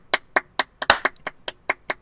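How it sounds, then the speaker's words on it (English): Hands clapping in a quick, even run of about ten sharp claps, close and dry, with no talking. "More clapping."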